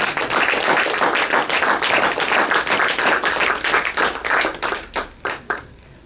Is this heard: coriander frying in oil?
no